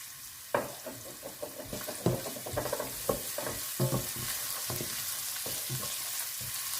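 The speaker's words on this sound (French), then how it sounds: "l'huile est bien chaude, donc là on va mettre les oignons" Onions hit hot oil in a Senegalese-style chili sauce and sizzle steadily, with repeated stirring scrapes and clacks of a utensil against the pan close by.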